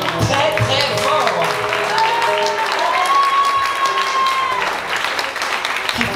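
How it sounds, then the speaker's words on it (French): Audience applause at a live concert in a venue hall, greeting a young singer as she is introduced; loud, steady clapping fills the clip, with a sustained sung or whistled tone and crowd voices mixed in. "que je vous demande d'applaudir très très fort"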